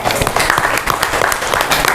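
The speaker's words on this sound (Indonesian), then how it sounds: "Tepuk tangan untuk kelompok 1." A school class applauding a group presentation, dense, close clapping from many hands that stays steady and loud throughout.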